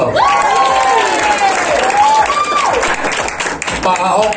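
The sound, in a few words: audience applause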